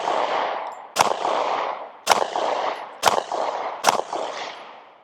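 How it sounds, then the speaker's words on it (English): Four loud, sharp Glock pistol shots fired at about 7 yards through a Radian Afterburner barrel, spaced roughly a second apart, each with a brief echoing tail. "We're going to shoot a few rounds here, about 7 yards"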